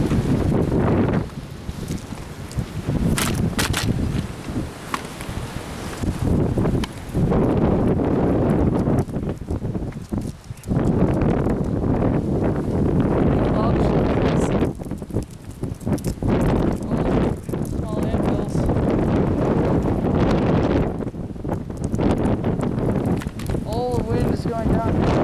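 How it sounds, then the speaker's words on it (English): Strong 20 to 30 mph wind gusting through a pine tree, a loud roaring rush with heavy buffeting on the microphone that surges and dips over time, with some voices audible intermittently. "That's what 20, 30 mile an hour winds sound like going through a pine tree."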